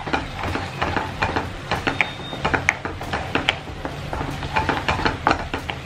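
Food sizzling and crackling in a hot pan as it fries, with dense irregular pops and spatters over a steady hiss, close and fairly loud, with no talk.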